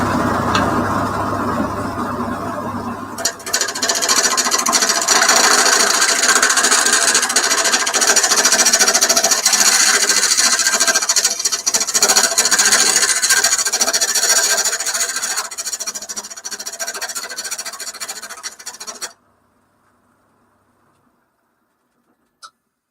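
Lathe cutting a tenon on a mulberry wood bowl, a loud steady scraping, rasping whine that runs for about nineteen seconds, then cuts off into near silence with one small knock at the end.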